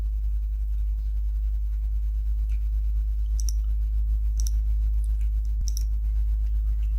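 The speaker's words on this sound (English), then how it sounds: "We click on create websites." A computer mouse gives a few sharp, isolated clicks spaced a second or so apart, small and close, over a loud, constant low electrical hum.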